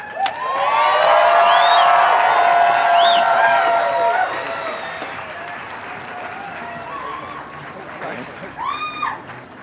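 A crowd claps loudly and steadily for a few seconds, with some cheering on top, then the applause fades to scattered claps and murmuring.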